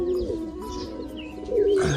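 Pigeons coo in a loft where some birds sit indoors, a soft, steady murmur of low calls close by, growing a little louder toward the end.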